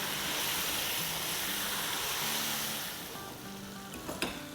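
Ground masala with salt and a spoonful of water sizzles in a pan while being roasted for chicken nihari, a continuous, close frying hiss that softens slightly toward the end, capped by a quick utensil clatter.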